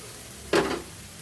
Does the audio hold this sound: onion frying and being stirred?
yes